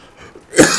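A single short, harsh cough from a gamer fighting off a lingering cough during a Battlefield 3 session, close and loud, rising abruptly after a faint breath and ending quickly.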